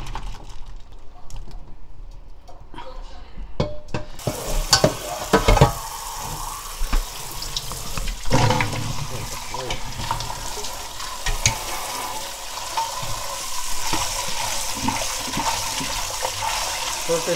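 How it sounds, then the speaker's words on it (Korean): Taro being washed under running tap water in a kitchen sink, with a steady gush and splashing of water and occasional handling clatter, close and fairly loud after a quieter start. "이제 건져내서 씻어."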